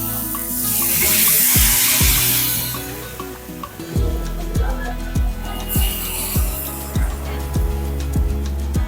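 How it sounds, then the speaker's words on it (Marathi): Jowar dhirde batter hits a hot pan with a burst of sizzling, followed by a series of repeated clanking knocks and scraping as the batter is spread and the pan handled. "पीठ छान परत एकदा ढवळून घेऊया आणि दिरडे टाकूया"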